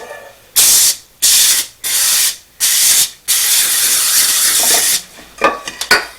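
Several loud bursts of aerosol cooking spray onto a foil-lined 9x13 tin pan, four short hisses and then one long one, close up, followed by light metallic clinks.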